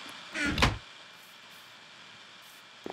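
One brief door sound in a video game, a short swishing slide lasting about half a second over steady low background hiss, then quiet with a tiny click at the end.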